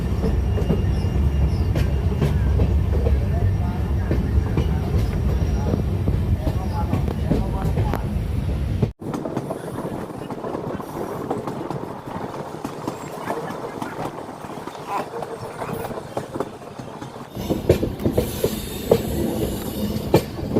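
The Sairang Express passenger train runs on rails along a hilly route with a continuous rumble and clickety-clack, a sudden dip midway and then brighter wheel noise near the end.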